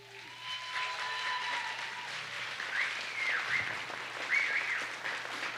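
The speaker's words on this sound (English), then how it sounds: "I think that is something to clap about for them." An audience at a school spring band concert applauds, a soft, steady wash of clapping that swells slightly, with faint voices and a few high squeaks over it.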